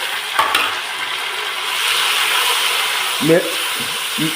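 Chopped tomatoes go into browned onions in a pan for a chicken and tinda curry, giving a loud steady sizzle with a few stirring clinks and a voice speaking near the end.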